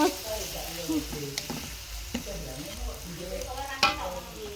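Spices for sacrificial beef and goat meat stir-fried in a scorched wok, a loud continuous sizzle broken by sharp scrapes and clanks of a spatula on the metal, with faint voices in the background.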